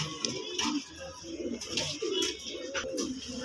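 Pigeons, including homers kept for sale at a breeder's loft, give soft, low, repeated cooing calls that overlap one another at close range, with no talking.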